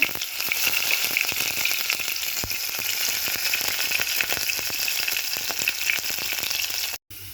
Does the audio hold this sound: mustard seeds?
yes